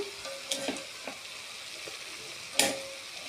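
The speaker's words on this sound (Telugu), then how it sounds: "ఇప్పుడు నీట్గా కడుక్కున్న చేప ముక్కలు వేసేస్తున్నా." Washed fish pieces dropping into masala frying in a pan, soft sizzling broken by several clattering knocks and a louder splashy hiss near the end.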